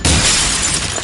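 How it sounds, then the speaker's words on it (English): Glass shattering in the Resident Evil 4 video game, one loud, dense crash of breaking glass that fills the whole moment without any voices. "that glass shatter sound was way too loud"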